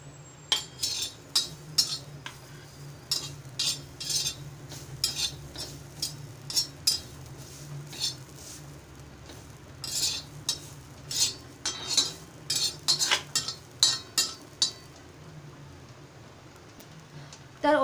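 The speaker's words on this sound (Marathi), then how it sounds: "आता मी ओल्या नारळाचं खोबरं भाजून घेत आहे" Fresh coconut is roasted on a hot tawa, with a spatula scraping and clinking repeatedly against the pan in an irregular rhythm over a quiet background hum.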